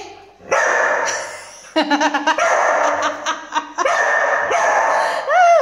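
A pet dog named Milky barks in repeated sharp bursts, close and loud, with yips between and a person briefly talking nearby.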